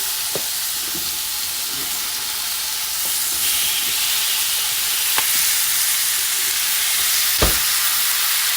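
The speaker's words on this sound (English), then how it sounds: "Hear that sizzle?" Steady, loud sizzling of chicken for fajitas frying in a hot pan, a continuous crackling hiss with a few sharp pops, no voices.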